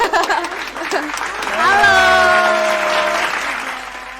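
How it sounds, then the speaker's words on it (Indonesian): Audience clapping at a youth talk event as a guest is welcomed, steady applause rising midway while a voice speaks over it. "tepuk tangan dong"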